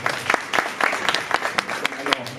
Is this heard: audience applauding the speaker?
yes